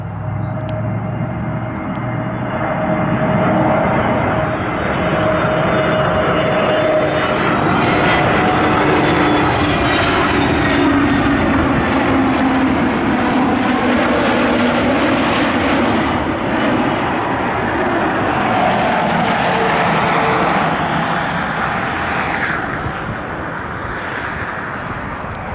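A Frontier airliner arrives at Cleveland airport with a loud, sustained jet engine roar, its pitch sweeping and rising as it passes close by, then slowly easing off.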